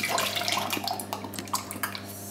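Buttermilk poured into a brown bread mixture of flour and bread soda, a soft wet splashing and trickling pour with small glugs and drips, close and moderately quiet.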